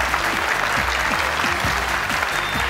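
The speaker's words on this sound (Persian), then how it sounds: "دوستا تشویقشان کنید." Studio audience applauding on a Family Feud-style game show, steady dense clapping filling the room for the whole stretch without pause.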